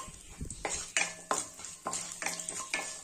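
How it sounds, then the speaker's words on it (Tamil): Six garlic cloves frying in a pan with roasting spices, heard as a soft sizzle broken by a rhythmic series of stirring scrapes and clinks about every half second, close and without talk. "இப்போ இதுல 6 பல் பூண்டு சேர்த்துக்கிறேன்"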